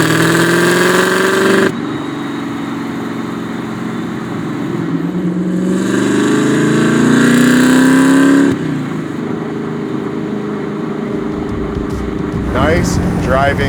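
A supercharged 900HP LS7 in a custom 1966 Chevy revs loud and close, its exhaust rising and falling in several sustained pulls with idle between them, while people talk over it.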